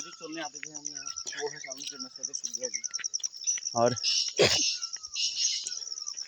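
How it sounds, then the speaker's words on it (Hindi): Birds call around a hillside village in Almora, Uttarakhand, with repeated chirps and trilling notes over a steady high insect-like buzz, and someone speaks briefly among them. "यहाँ पर चकोर, तितरी जो है, कोयल, सबकी आपको गूंज सुनाई दे रही होगी।"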